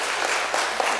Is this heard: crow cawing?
no